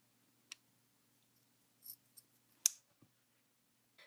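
Scissors trim fabric for a no-sew doll bathing suit top in a few quiet, separate close snips, with faint pauses between cuts.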